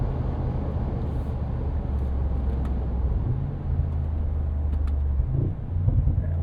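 A 2025 Mercedes-AMG G63 with a 577 hp biturbo V8 and side-exit exhaust pipes gives a steady, loud, low engine rumble with slight pitch shifts as it drives, heard from the cabin with no talk.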